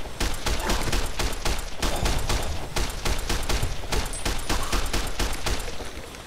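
Rapid automatic gunfire in Fallout: New Vegas during a zombie apocalypse battle, with dense overlapping shots crackling continuously throughout, loud and close with no pauses.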